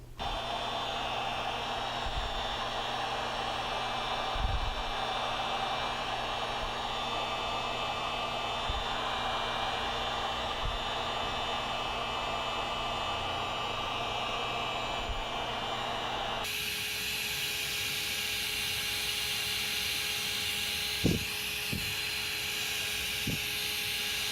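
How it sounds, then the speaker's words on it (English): Heat gun on its high setting held a few inches from leather filler on a cracked automotive leather repair, a steady broadband airy roar with an electrical hum that carries on without pause and then shifts in tone partway through, with no talking. "I'm going to use a heat gun on high setting from a distance of about 2 to 3 inches to accelerate the drying of this filler material"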